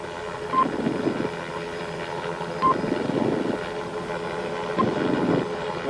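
Steady drone of a police helicopter overhead, with a rhythmic rotor pulse swelling every couple of seconds, no voices.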